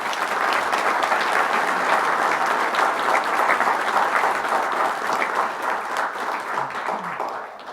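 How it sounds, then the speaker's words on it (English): An audience at a tribal council meeting applauds, a dense sustained clapping from a sizeable crowd that holds steady and then tapers slightly at the end. "Let's give them a big round of applause."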